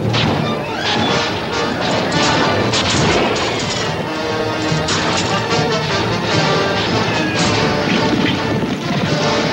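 Gunfire in a dubbed old western film: dense, loud battle noise with crashing shots, booms and impacts running continuously under a music score, without pause.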